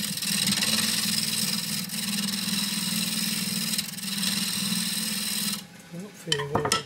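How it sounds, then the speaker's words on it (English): Spindle gouge smoothing a cross-grain wooden box on a lathe, a steady hum of the spinning machine with a continuous scraping cut over it, near and fairly loud, then the cutting stops and a few knocks follow while someone speaks. "So we'll just smooth that off with the spindle gouge again"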